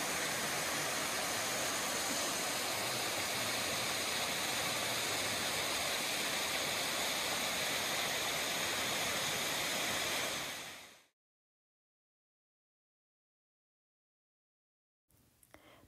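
Mountain streams rush down rocks in the Great Smoky Mountains of North Carolina, a loud, even roar of flowing water that cuts off abruptly, leaving silence before a faint sound returns at the very end.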